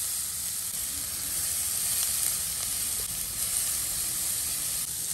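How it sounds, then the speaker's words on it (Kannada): Grated carrot roasts in ghee in a pan for carrot sago payasam, making a steady, close, hissing sizzle that holds constant without pause. "ಓಕೆ, ನಾನು ಕ್ಯಾರೆಟ್ ತುರಿಯನ್ನ ಹಾಕ್ತಾ ಇದ್ದೀನಿ"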